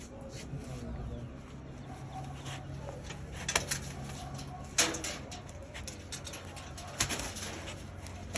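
Soft cooing of pigeons close by, low and intermittent, with occasional sharp clicks and rustles over a steady background hum.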